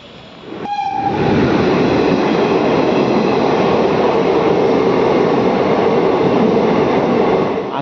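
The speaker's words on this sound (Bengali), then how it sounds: "আর 30 মিনিট লেটে আমাদের ট্রেন সাঁইথিয়া স্টেশন ঢুকলো।" Express passenger train entering Sainthia railway station, sounding a loud horn blast before settling into a sustained, close rumble of wagons and wheels that continues steadily to the end, with no talking.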